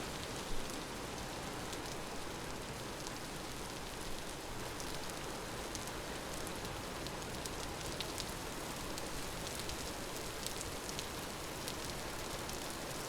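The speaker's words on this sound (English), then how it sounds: "Looks like it's going to be a rainy, rainy night." Steady rain pours down at night in the survival game Vintage Story, a dense, continuous hiss of drops on surfaces with no pauses, fairly close and even in level throughout.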